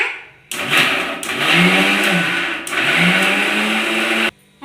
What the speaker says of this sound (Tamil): மீன் குழம்புக்கு அரைச்சிக்கலாங்க